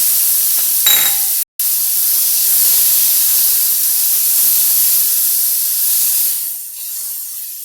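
Tomato tipped into a hot pan with roasted urad dal bursts into a loud, steady hiss that fills the scene, then eases off toward the end; a brief clatter comes just before.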